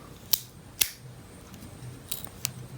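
Small scissors on a Swiss Army knife snipping, heard as four crisp, brief clicks spaced unevenly and close by over quiet background, with no speech.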